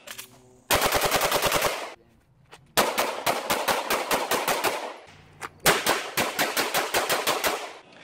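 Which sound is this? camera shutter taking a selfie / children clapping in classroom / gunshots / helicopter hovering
gunshots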